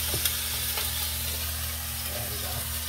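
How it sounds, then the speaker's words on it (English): Frozen okra sizzling in a hot skillet, a steady close frying hiss with a constant electrical hum beneath and a few soft clinks of stirring. "I just throw them in the skillet frozen just the way they are."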